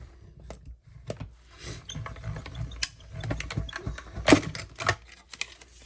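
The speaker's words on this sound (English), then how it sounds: "We're going to do some die cutting." A hand-cranked die-cutting machine clicks and ratchets irregularly, with mechanical clunks and rattles as plates feed through it to cut out a circle, close by.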